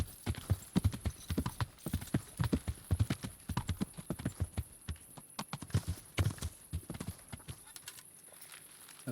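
Horse hooves clip-clop in a steady walking rhythm in the medieval game Kingdom Come Deliverance, close and clear, then slow and stop near the end.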